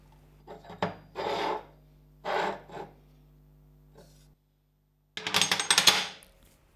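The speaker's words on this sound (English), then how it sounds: "Now it's time to cut the slabs into individual pieces." Wood slabs are sawn into individual pieces: several short rasping cutting strokes in bursts, close and fairly loud, separated by pauses, then a final longer burst of sawing, with no voices.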